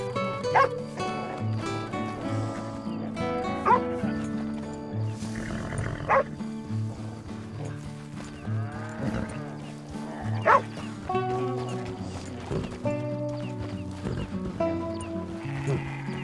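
A dog barks repeatedly while herding sheep in the Red Dead Redemption 2 western video game, with sheep bleating and game music running underneath throughout.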